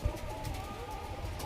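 Pigeons at a market sale softly coo in a low murmur, close by, against a busy background hum, with a brief thump at the start.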